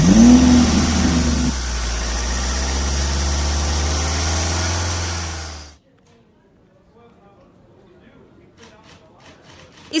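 A police car's engine runs loud and close with a revving rise, then cuts off abruptly, followed by near silence and faint clicks.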